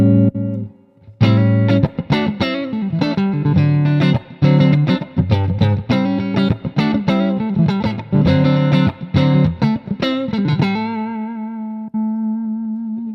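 A BluGuitar AMP1 100-watt electric guitar amplifier on its clean channel with the boost switched off plays a busy strummed passage with a clean tone, ending on a sustained ringing chord that slowly fades.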